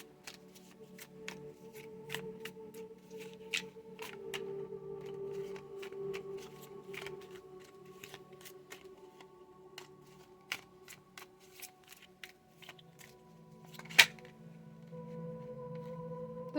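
Tarot cards being shuffled by hand, a soft continuous riffle broken by scattered sharp flicks and taps, close and fairly quiet, with one louder snap near the end and no talking.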